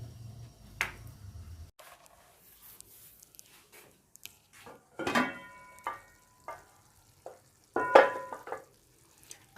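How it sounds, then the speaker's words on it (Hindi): A spoon stirs aloo mongray sabzi, potatoes with fried gram-flour mongray and garam masala, in a pan over low heat, giving a few separate scraping and clinking strokes between quiet gaps, close and moderately loud. "और इनको मिक्स कर देते हैं"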